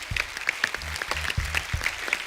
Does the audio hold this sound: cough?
no